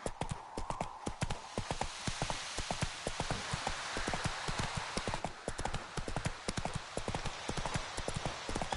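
Hooves clip-clop steadily as a horse is ridden in the video game Witcher 3. Evenly spaced, close, loud thuds run the whole time over a rain-like hiss in the background.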